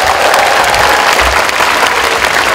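A large lecture audience applauds Tony Fernandes, with dense, loud, continuous clapping filling the whole stretch and no voices on top.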